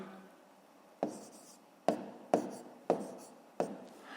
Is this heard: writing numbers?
yes